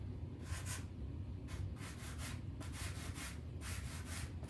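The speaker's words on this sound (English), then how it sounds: "Let me see if my sanding block has any oomph left in it at all." A worn sanding block rubs back and forth over a wooden picture frame being repurposed, giving steady, close, scratchy strokes in an even rhythm with no talking.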